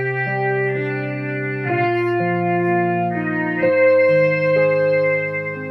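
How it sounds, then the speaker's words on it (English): Sustained electric keyboard chords with a distorted, chorused tone and a reverberant tail, notes changing every second or so. "I'll give it a little bit of reverb, and that helps"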